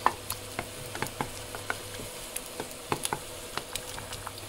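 Sauce with courgettes, lime and coconut cream simmers and reduces in a pan, a soft, irregular patter of small bubbling pops and light ticks over a faint low hum.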